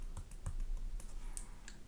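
Calculator keys pressed in a short run of soft, close clicks and taps with no talking, as a value is entered for a normal distribution calculation.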